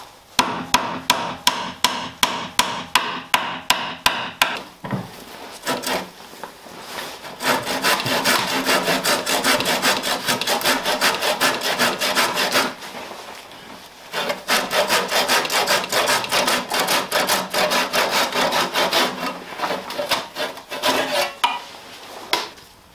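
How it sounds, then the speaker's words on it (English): A burst of sharp, evenly spaced hammer blows driving wooden pegs into holes while building a shaving horse, then long stretches of rhythmic rasping scraping, with a few more knocks at the end. "now I'm just driving down the wooden pegs into the actual fitting"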